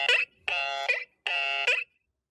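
A synthetic alarm buzzer sounds three times in even bursts, each a bright electronic tone with a short warble at its end. The bursts are loud and clear, with brief silences between them and no speech.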